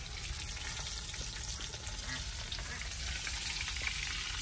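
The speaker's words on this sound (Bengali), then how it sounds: "একবার দুবার তেল দিয়ে ভাজতেছি।" Fish frying in oil in a pan, a continuous soft sizzle with faint crackling and light stirring noises, steady and quiet throughout.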